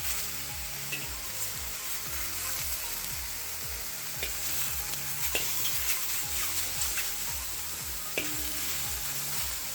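Steady, loud sizzling and crackling of halibut and vegetables frying in a hot wok, with rhythmic stirring and tossing scrapes repeating throughout.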